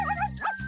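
A dog gives a short excited yip and bark, two quick bright cries within under a second, close and clear over a faint background.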